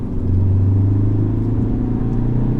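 A 2016 Ford Focus ST-3 with a 2-litre diesel engine drones as a low, steady, loud rumble from inside the cabin while driving, its pitch creeping slightly, with no talking.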